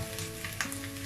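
Cauliflower, potato and carrot pieces going into a pan of frying onion and egg, a brief close burst of sizzling with a small clatter as they land.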